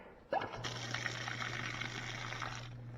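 Water runs from an outdoor freeze-proof spigot fed by a pressure pump. A short click and a rush of flow start the sound, then a steady motor hum holds under the hiss of running water.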